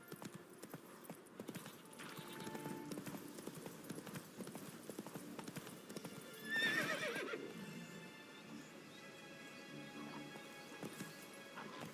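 Roach the horse trots in The Witcher 3 video game, with steady rhythmic clip-clop of hooves throughout and a brief whinny midway.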